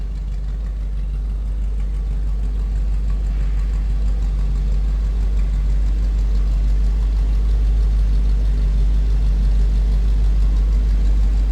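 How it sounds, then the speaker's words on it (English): A 1957 Buick Special Riviera coupe idles with a deep, throaty exhaust note, a steady low rumble that stays loud and even throughout, with no voices. "Nice exhaust note, nothing crazy over the top, just nice deep throaty exhaust note"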